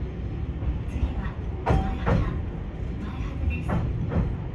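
A Toyohashi Railway Azumada Line tram runs on its rails along a street route, giving a steady rolling rumble with a few louder clanks and squeals, heard up close with no talk over it.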